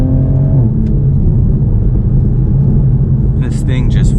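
A 2020 Toyota Supra on Michelin Pilot Super Sport tires accelerates hard along a road, its loud engine roaring steadily and climbing through the gears, with a brief voice over the top near the end.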